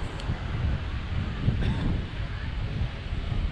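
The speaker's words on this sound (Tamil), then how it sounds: "நைட்டு காற்று செமையாக வருதுங்க." Strong night wind on a beach in Pondicherry, India, roaring as a continuous gusty rumble into the microphone with faint surf underneath, no talking.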